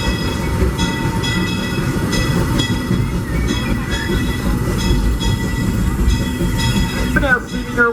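Disneyland Railroad steam train with Ward Kimball locomotive No. 5 rolling along the tracks toward Toontown Depot: a loud, steady rumble of wheels and cars with rhythmic clatter, a brief squeal near the end.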